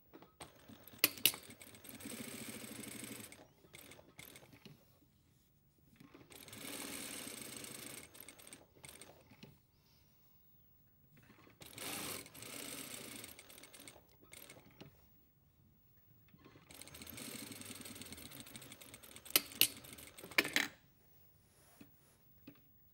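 Sewing machine running two rows of 6 mm topstitching on a pointed pocket flap, four separate bursts of rapid mechanical stitching, each a few seconds long, with quiet pauses and small clicks between, close and clear.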